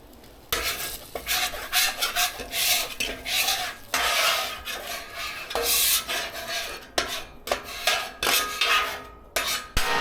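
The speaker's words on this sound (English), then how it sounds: "I made sure that I scraped down my griddle" A metal scraper rasps and scrubs across a hot cooking griddle, clearing away oil and burnt debris, in repeated close strokes with a faint sizzle underneath and no talking.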